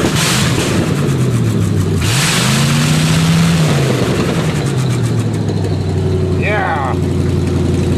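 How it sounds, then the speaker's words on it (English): A Chevy engine revs up and falls back to idle nearby, with a steady low rumble that swells in the middle, and a person talks over it. "I love the sound of Chevy in the morning"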